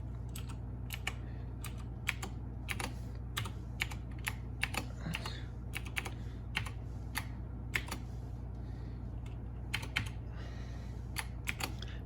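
A password goes into a computer keyboard as a run of quick, crisp key clicks in irregular bursts over a low steady hum, close and fairly quiet, with no speech.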